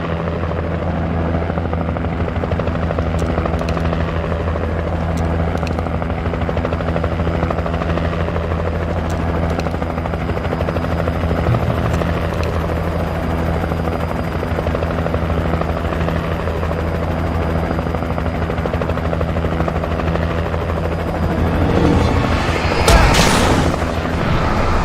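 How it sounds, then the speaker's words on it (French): Helicopter in the video game Alan Wake, a loud, continuous rotor thrum with steady low throbbing, joined by faint clicks and a brief burst near the end, with no talk. "Écoutez la télé avec un hélico et un pont qui fait un bruit atroce"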